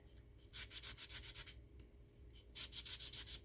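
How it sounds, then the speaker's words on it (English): A painted desk art piece is sanded by hand in two quick runs of rhythmic back-and-forth rasping strokes, close and crisp, with a short pause between them. "I'm going to sand this down a little bit."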